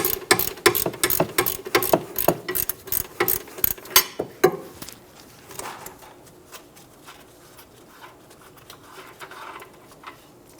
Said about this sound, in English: Remove the nut using a 17mm wrench for the nut and a 17mm wrench for the head of the bolt.